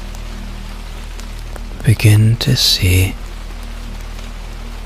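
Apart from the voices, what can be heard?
rain falling on rainy Edinburgh streets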